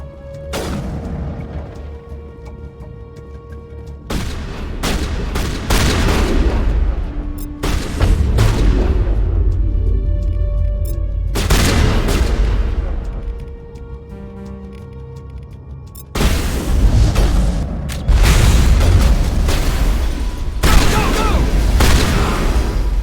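Grenade explosions and bursts of gunfire in the video game Mass Effect come as repeated loud booms and rattling volleys with heavy low rumble, mixed with game music tones and character voices.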